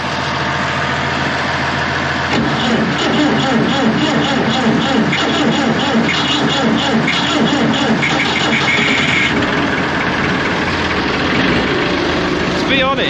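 An old tractor engine starts in freezing weather and settles into a loud, steady, rough idle close by, with a person talking over it.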